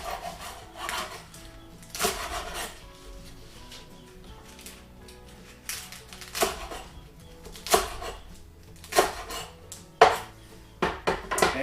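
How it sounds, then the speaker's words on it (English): A knife roughly chopping hosta leaves on a cutting board in a home kitchen, giving a run of irregular knocks and scrapes with clatters of pots and utensils around them, fairly close and alone with no talk. "we're just going to give them a kind of rough chop before we put them in there"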